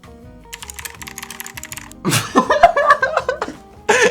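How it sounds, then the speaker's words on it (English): Typing on a cheap, waterproof $5 computer keyboard that has been drenched: a steady run of light, rattly keystrokes, followed by voices talking and reacting close by. "Dude, this keyboard is drenched and it still works."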